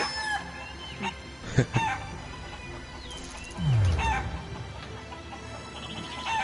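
Chickens in the video game Shenmue III cluck and squawk in sharp, close bursts, with a brief rooster-like crow, over a faint steady game background.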